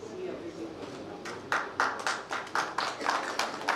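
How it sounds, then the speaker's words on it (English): Applause for speakers closing a technical session at a dairy technology faculty event, scattered moderately loud claps rising after a second of background murmur and continuing in an uneven rhythm. "I'd like to close this organization with applause to the all very excellent"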